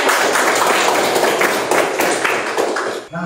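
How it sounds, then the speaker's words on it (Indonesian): Students in a biology classroom clap hands together in a steady rhythmic burst lasting a few seconds, loud and close, with no talking over it. "Oke, tepuk tangan."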